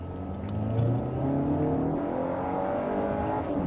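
Range Rover Evoque with a 2.0 turbo four-cylinder engine accelerating from a roll, a steady loud engine drone with rising tones and turbo whir that climbs slowly without a sharp surge.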